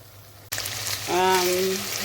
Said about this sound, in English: So I'll add the onions and start frying it off now.